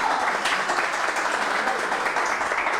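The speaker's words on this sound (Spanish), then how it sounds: "Un fuerte aplauso" A crowd applauds a departing female guest at an evening gathering in Biblián, Ecuador, the dense, steady clapping filling the short stretch with some chatter mixed in.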